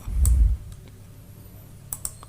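Typing on a computer keyboard while working in AutoCAD, a heavy thump near the start followed by a few crisp, quiet key clicks spaced apart, with no talking.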